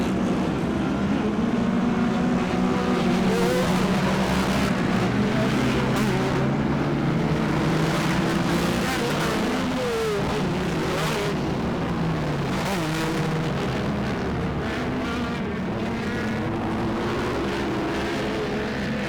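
Off-road UTV race cars roar around a dirt track corner, with engines revving continuously and loudly as several cars overlap for the whole stretch.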